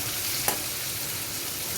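Spice paste of onion, ginger, green chili and tomato frying with potatoes in a pan, a steady close sizzle with a brief stirring scrape, no talking.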